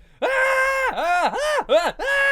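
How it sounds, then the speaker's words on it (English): A girl's loud, drawn-out screams in a video game, several strained wailing bursts in quick succession with pitch swooping down and back up between them, close and prominent with no other sound. "Her scream this time was really loud"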